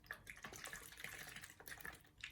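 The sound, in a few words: normal saline poured from a bottle into a tray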